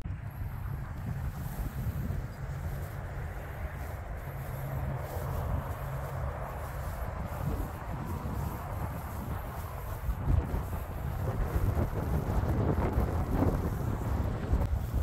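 Strong wind blows steadily across an open cemetery in Riverside, California, buffeting the microphone with constant low rumbling gusts and no voices.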